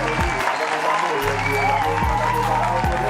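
Audience applause fills the room, sustained clapping from a crowd that runs steadily throughout, loud and close, with a voice talking over it and some background music.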